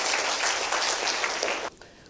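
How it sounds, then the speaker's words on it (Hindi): A church congregation applauds in thanks to the Lord during a New Year sermon, dense clapping from many hands at steady loudness that cuts off abruptly, leaving a quieter room tail. "तालियां बजा के प्रभु का धन्यवाद"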